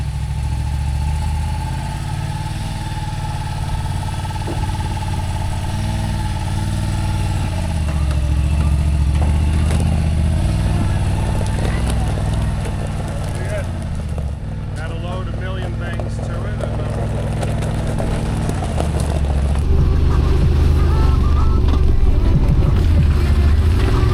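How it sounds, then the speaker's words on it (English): A 2024 Yamaha RMAX two-seater side-by-side runs with a steady low engine drone throughout, rising slightly in places, under continuous nearby talk. "this is the new ride, 2024 R-Max 2-seater"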